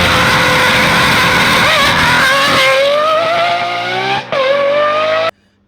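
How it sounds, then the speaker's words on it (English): A fancy sports car's engine revs loud and close, its pitch climbing steadily, dipping briefly on a shift, then rising again before cutting off abruptly. "you see that nice fancy sports car"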